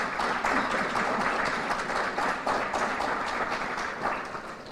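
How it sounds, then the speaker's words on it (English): Moderate, steady applause from a crowd at a museum gathering with Ohio's governor, continuous clapping that eases slightly toward the end. "We must give him a round of applause for being here too"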